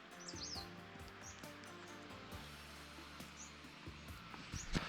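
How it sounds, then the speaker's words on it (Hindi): Faint, scattered bird chirps sound at a distance over a low, steady hum in the misty winter hills of Uttarakhand, with a few short high tweets spread across the clip. "और ये चिड़ों की चहचहाने की आवाज़"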